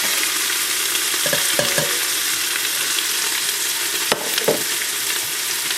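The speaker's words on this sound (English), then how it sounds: "So now I'm going to add the onions. Yeah, that sounds good." Onions fry and sizzle in a pot for North Carolina style clam chowder, a loud, steady close-up hiss with a few soft stirring scrapes and knocks, and no one talking.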